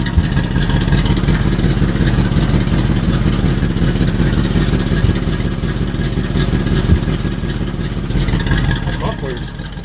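Truck engine with a blown-out muffler, running loud and continuous with a rough, rumbling exhaust throughout, easing slightly near the end.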